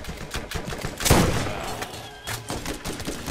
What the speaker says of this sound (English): There's a guy over here shooting at me.